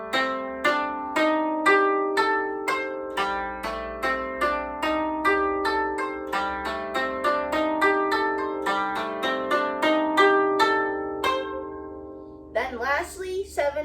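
Koto playing the Hana Ikada lesson part, a steady run of plucked string notes that quickens as it goes, bright and close, ending with a short fluttering flourish after a brief gap.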